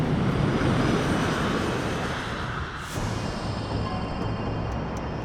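Airplane engine in flight: a continuous broad, loud drone throughout, with a brief dip and swell midway and no voices.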